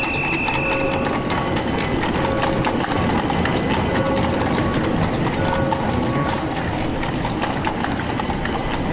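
Horse hooves clip-clop on a New York City street in 1911, a steady, continuous clatter under a dense, noisy street bed, with no talk.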